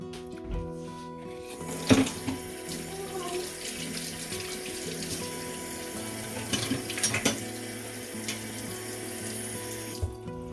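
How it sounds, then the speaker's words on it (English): A kitchen tap runs steadily, water splashing into a sink while pumpkin banana nut bread batter is being made from scratch, with a few clinks and knocks of dishes partway through and no talking. "so I'm going to add a tiny bit of water."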